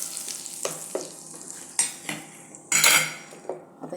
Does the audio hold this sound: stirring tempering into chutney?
yes